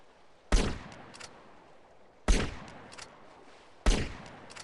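Three loud sniper rifle shots in GTA San Andreas, evenly spaced about a second and a half apart, each a sharp crack trailing into a brief echoing decay.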